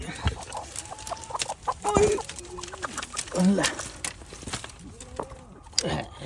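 Hens cluck and murmur nearby in short bursts and drawn-out calls around a spot where they lay eggs, with a person talking over them.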